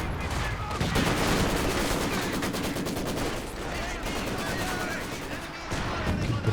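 Sustained rapid machine gun fire from a Maxim in the Company of Heroes 2 video game, a dense rattling stream of shots over battle noise, fairly loud and continuous.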